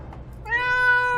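A cat in the game 60 Seconds lets out one clear, sustained meow that starts midway and holds steady, loud and close, with nothing else over it.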